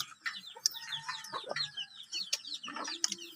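Chickens being fed cluck quietly, with a quick run of short, chattering calls and sharper chirps, close by and without talk.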